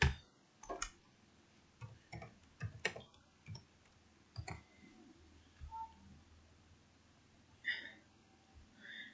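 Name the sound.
typing on a keyboard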